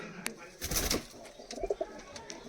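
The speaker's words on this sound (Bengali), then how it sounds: "এই হচ্ছে নর পায়রাটা" Soft, low cooing from a male pigeon nearby in a small rooftop loft, a couple of short throaty burbles in a quiet space, with faint rustling around them.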